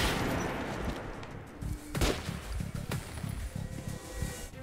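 In the video game Metro Last Light, a quiet burst of repeated gunshots fires in a rough rhythm for several seconds, then ends with a single sharper report. A brief spoken word sits over the shooting.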